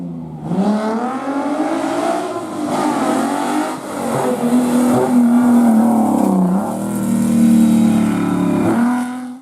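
An Alfa Romeo Alfetta from the 1970s–80s revs hard, its engine note climbing and sweeping through repeated loud, close rises and falls with no talking.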